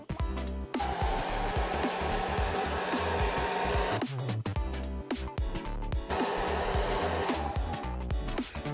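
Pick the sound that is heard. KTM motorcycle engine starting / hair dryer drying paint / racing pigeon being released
hair dryer drying paint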